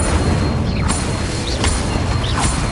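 Incendio fire spell explosions in Hogwarts Legacy, a loud sustained roaring burst with crackling flame and short whooshing spell sounds layered over a steady, dense game soundscape.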